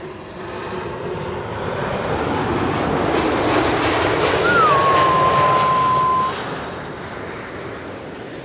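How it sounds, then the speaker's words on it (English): Embraer E2 jet airliner landing at Schiphol on a sunny day, a broad engine roar swelling to a peak mid-clip and fading as it passes, with a faint whistling tone over the rumble. "E2 Embraer in the meantime over here landing"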